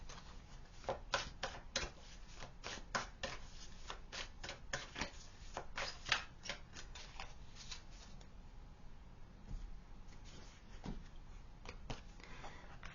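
Tarot cards shuffled and drawn close by, a quiet run of rapid crisp riffles and snaps in clustered bursts that thin out toward the end.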